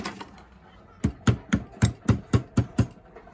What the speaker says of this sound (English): So here I do have a dowel pin. I'm just going to put this in.